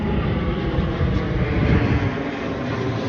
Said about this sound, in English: airplane above,